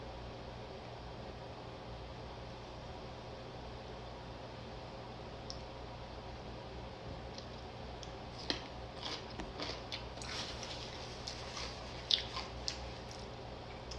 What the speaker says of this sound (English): Today we are trying Grill Those Pickles, hot and spicy.